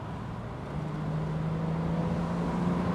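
A Mercedes R107 SL with a six-cylinder engine and four-speed automatic accelerates, its steady engine drone swelling and rising in pitch partway through as it pulls harder, heard from inside the car.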